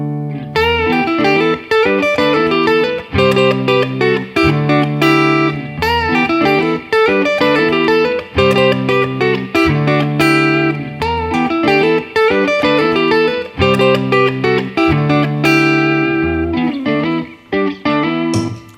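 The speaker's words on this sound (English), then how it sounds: "I'm going to play the guitar lick so you can hear how everything fits together" Electric guitar lick built on fast-moving two-note chords, played loud over a steady backing track with short rhythmic stabs and brief gaps, continuing for about eighteen seconds.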